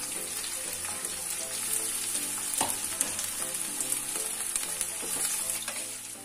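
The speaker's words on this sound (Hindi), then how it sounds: "ये सारा तड़का, हम इसमें ही भून लेंगे अच्छी तरह।" A tadka of tempering spices fries in hot oil in a pan for a bitter gourd and paneer curry, giving a continuous bright sizzle with occasional crackles and stirring scrapes throughout.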